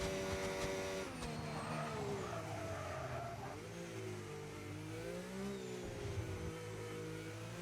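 A race car at Spa-Francorchamps in a sim racing game revs loud and close through shifting gears, with tire squeal and rising and falling engine pitch throughout, and no voices.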